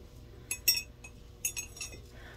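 A small glass rose in a vase clinks as it is handled at a flea market, with two quick clusters of bright, close taps.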